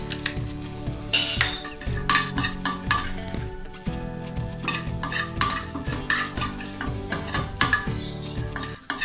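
Fenugreek seeds are dry-roasted in a pan while a metal spoon stirs them, making repeated close scraping and bright clinks against the pan over a faint sizzle.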